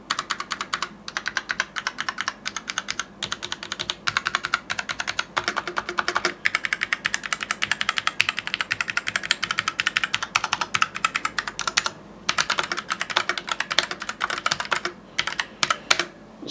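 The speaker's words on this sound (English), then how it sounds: "all the keys sound fairly similar, with the exception of the space bar, which does have more of a duller or a bassier effect" Fast, continuous clacking of typing on a 60% mechanical RGB gaming keyboard, with close, crisp keystrokes, occasional brief pauses and a duller, deeper thud from the space bar.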